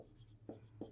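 Pen writing by hand on paper while working a sets problem for a class 11 math solution, with two firmer scratchy strokes standing out over a low steady hum, close and faint.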